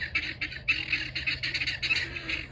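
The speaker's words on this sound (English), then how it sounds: "guineas are very loud and annoying and pestering" Harsh, rapid squawking calls from several guinea fowl chatter in uneven bursts, fairly close, with a soft background hum.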